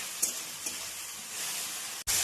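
Tomatoes frying in a pan while lentils are being cooked, making a soft, steady sizzle with a couple of light stirring knocks, close and quiet, ending in a sudden louder burst of hiss.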